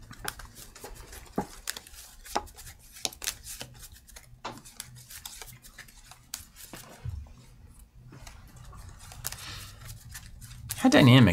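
Playing cards for the Skytear tabletop game are shuffled by hand close up, making a run of soft, irregular snaps and flicks. A louder burst of noise comes at the very end.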